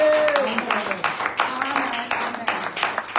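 A church congregation at a Sunday service applauds in a steady wash of many hands clapping, while a voice carries on speaking over the clapping.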